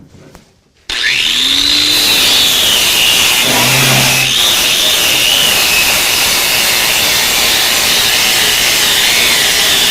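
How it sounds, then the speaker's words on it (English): A power-driven scuff brush works over a pickup truck bed to prep it for bed liner, giving a loud, steady abrasive whine with a gently wavering pitch that starts abruptly and continues without a break. "Once I got the bed surface scuffed and ready to go for paint"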